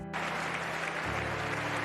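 A tennis crowd at the French Open claps and cheers for a departing injured player, a dense, steady wash of applause filling the whole stretch with no pauses.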